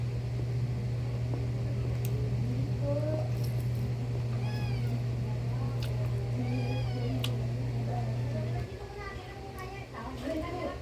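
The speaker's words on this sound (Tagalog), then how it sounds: "marinig yung mga meow dyan. Nagugutom na sila." Hungry pet cats meow repeatedly close by, their rising and falling cries overlapping above a steady fan-like hum that cuts out partway through, with a person talking at times.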